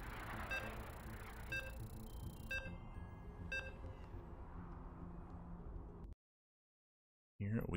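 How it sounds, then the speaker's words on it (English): Map veto beeps in a StarCraft II tournament broadcast sound as a series of short, evenly spaced electronic tones over a low background hum, followed by abrupt silence and a brief burst of sound. "The vetoes are done. You can hear the beeps."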